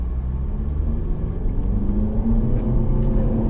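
A 2013 Nissan Juke Nismo in all-wheel drive pulling away from a standstill, engine rumble and rising hum building steadily from inside the cabin.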